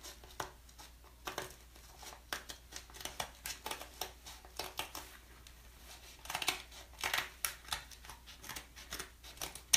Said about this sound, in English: Since I use such a chunky vinyl, I'm gonna cut it down just a wee bit.